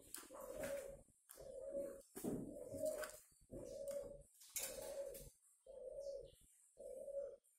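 Captive turtle dove, a tamed wild-caught bird kept in a cage, cooing in seven evenly spaced, loud, close phrases with short pauses between them.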